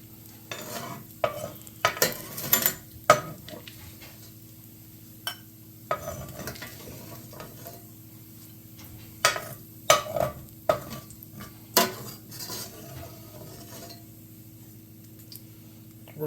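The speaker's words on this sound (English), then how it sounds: "our bacon is nice and crispy, and we're going to spoon this out" Crispy fried bacon spooned out of a pan, with sporadic metal scrapes and clinks over a steady low sizzle and hum in a kitchen.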